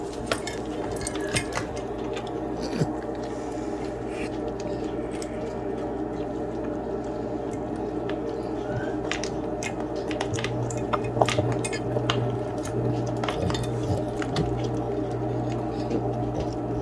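A dog eating dog food from a loose bowl that shifts on the floor, giving continuous soft licking, wet chewing and small clinks and scrapes of the bowl, close and fairly quiet, with no voices.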